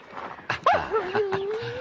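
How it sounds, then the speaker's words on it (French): A dog whimpers in a short, soft, high whine that bends and trails off, close by, over faint background shuffling and noise. "t'es un bon chien"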